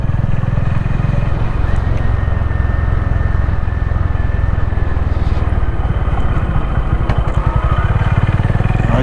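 A Honda CB350 motorcycle rides slowly over loose gravel after a downshift, the engine a loud steady thrum close by with continuous crunching and rattling from the tyres and wind.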